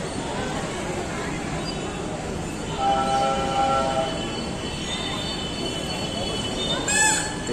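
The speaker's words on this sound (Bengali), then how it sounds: "ট্রেনটা এখন এইদিকে আসছে।" A toy train runs around a track junction inside a mall during Pohela Boishakh decorations, rumbling and squealing steadily at close range against a busy crowd din, with a brief sharp squeal near the end.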